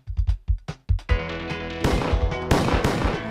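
Gunfire: a quick series of sharp close shots, followed by sustained rapid bursts like automatic weapons firing, loud and dense.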